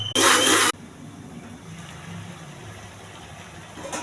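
A kitchen mixer grinder jar purees tomatoes into paste. One short, loud whirring burst lasts about half a second, then the room goes quiet with a low background hum.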